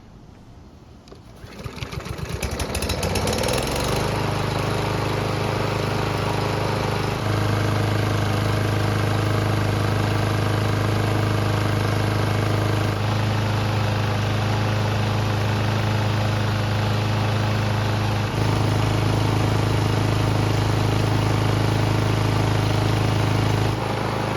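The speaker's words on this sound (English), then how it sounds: "it's been running for several minutes and the engine should be good and hot" A small lawn mower engine sputters, catches and settles into a steady running drone that continues loud and unbroken, its pitch shifting slightly a few times.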